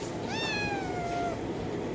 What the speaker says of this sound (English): You can see that these cats are in so much pain and are screaming